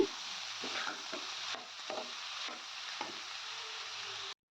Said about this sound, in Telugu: ఇంకా వేయించుకోవటమే కూర చాలా తొందరగా ఈజీగా అయిపోతుంది